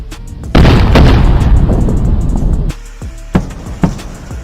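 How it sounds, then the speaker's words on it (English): Returning rocket boosters produce a loud, deep sonic boom with a long rumbling tail, followed by two or three sharper, quieter booms in quick succession. "And when this happens, it creates sonic booms."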